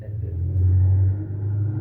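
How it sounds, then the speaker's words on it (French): A motorcycle passes by on a street, a steady low engine rumble swelling slightly and then holding, close and fairly loud, with no speech over it. "on laisse passer la moto"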